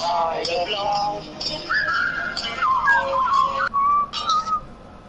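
A person whistles the tune of "Always Look on the Bright Side of Life" during a livestream of the game Bloodborne, a clear melodic whistle with gliding notes and short breaks that runs the full length, close and fairly loud.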